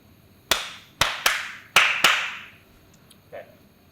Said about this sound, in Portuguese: Bate umas palmas